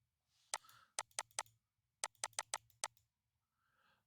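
Computer mouse clicks in two bursts, sharp, close and quick, with a short pause between groups and no voices.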